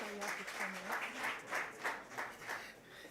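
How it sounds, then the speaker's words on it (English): Applause from a conference audience at a tech event in Owutu, Nigeria, greeting a speaker. It comes as a moderate, patchy round of clapping with a voice speaking over it. "Please give a warm round of applause to our tech guru in the house, Mr. Wale Ogulade."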